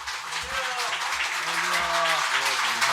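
Church conference congregation clapping to welcome the pastor, a steady crowd applause running throughout with voices and tonal sounds, likely music or singing, faintly over it.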